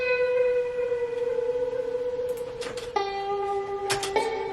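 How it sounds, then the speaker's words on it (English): Sustained high guitar tones waver with a shaky vibrato and ring out with reverb, shifting pitch partway through, with a few brighter plucked accents. "I used the higher strings of the guitar and kind of made this shaky vibrato noise"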